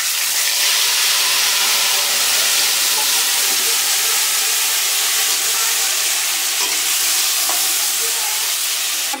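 Fish sizzling loudly in hot mustard oil tempered with nigella seeds, dried red chillies and cloves for a Bengali mustard-poppy fish dish; a steady, dense frying hiss fills the whole stretch with no voices.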